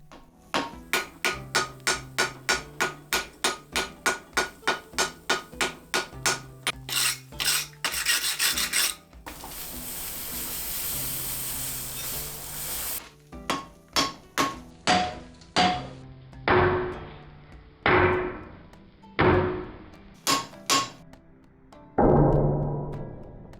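A hand hammer strikes a Damascus steel billet to set the forge welds, first in a fast, even run of sharp ringing blows, then a longer hissing or scraping burst, then slower, spaced heavy strikes that ring out and decay.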